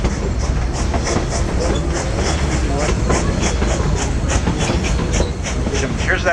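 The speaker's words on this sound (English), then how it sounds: "Here's that ballast regulator right here, guys, and this is the tamper" Rail equipment rolls along the Cumbres & Toltec narrow-gauge line near Antonito, with a loud, continuous rumble and a rhythmic clickety-clack of wheels over the track joints, close by and steady throughout.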